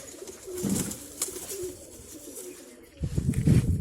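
Pigeons cooing in two soft, throaty bursts, close by, with a quieter stretch between them.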